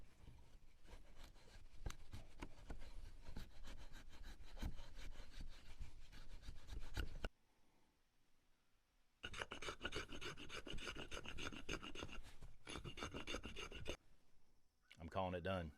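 A knife worked as a draw knife shaves wood while shaping a bushcraft hammer, making close, rhythmic rasping strokes that stop for a couple of seconds, then resume in quick scraping bursts.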